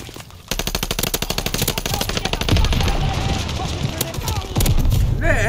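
Rapid bursts of automatic gunfire rattle in Call of Duty Vanguard's Hardcore Kill Confirmed mode, loud close shots in a fast rhythmic string, with a player's voice talking excitedly over the shooting.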